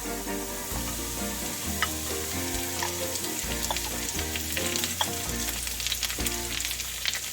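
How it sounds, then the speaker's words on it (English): Onions fry in a pan for a Spanish tortilla made with sweet potatoes. A steady, close sizzle runs throughout under loud background music, with no talk. "So we're about to that point where I'm going to add the onions"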